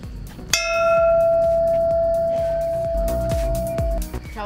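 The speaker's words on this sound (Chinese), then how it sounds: "敲钟" A temple bell on a hiking trail near Penang's Air Itam Dam is struck once, giving a loud, clear ring that hangs and slowly fades for several seconds over light clattering and footsteps.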